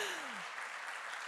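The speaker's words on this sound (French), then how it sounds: "je pense que ça mérite des applaudissements" Applause from the audience at an award ceremony for the Ibn Khaldoun-Senghor Prize, a steady wash of dense clapping that carries through the whole short moment without voices on top.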